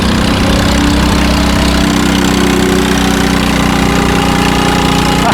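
A homemade kart cross engine revs loud and close as it accelerates up a hill, a steady buzzing drone with a slight pitch shift.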